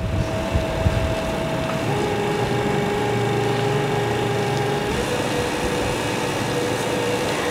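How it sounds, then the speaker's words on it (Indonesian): A stand mixer fitted with a spiral hook kneads bread dough for long john rolls at medium speed, giving a steady motor whine with a faint shifting hum and no speech. "sekarang kita pasang hooknya mixer ya, pakai yang spiral. Lalu kita uleni sampai menggumpal."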